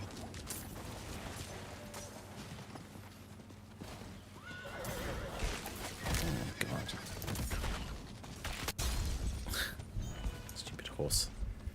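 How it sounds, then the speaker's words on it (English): A horse whinnies amid hoof clatter and rustling game sounds in Diablo IV, with muffled activity building louder toward the end. "Horse."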